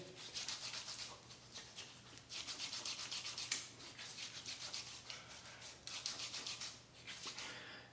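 Fingers massage shaving lather into facial skin for a shave, a soft, close, rhythmic wet rubbing and squishing in repeated short strokes, quiet and without talk.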